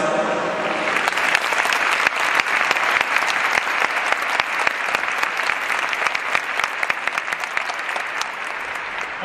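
Stadium crowd applauding at the Albirex Niigata season-end ceremony after the final J2 match against FC Machida Zelvia, a loud, dense, continuous roar of clapping with crisp individual claps standing out throughout.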